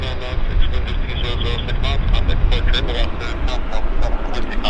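Twin turboprop engines of a Dash 8 Q400 airliner run steadily and loud as it taxis at Vancouver Airport, a broad continuous roar with a pulsing upper drone, while people talk over it.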